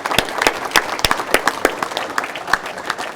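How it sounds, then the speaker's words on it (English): An audience claps for a former college football recruiter at a speaking event. The applause is scattered and moderately close, with distinct individual claps rather than a dense roar, lasting a few seconds. "Give the man a nice round of applause for that."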